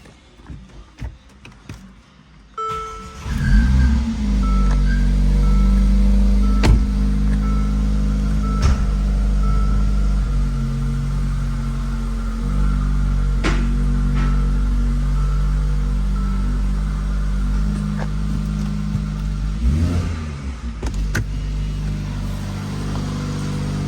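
2018 Mercedes-Benz GLA 45 starting up after a thermostat housing replacement, then idling: a low, steady engine drone with a constant hum, faint mechanical ticks, and a slight rise in revs near the end.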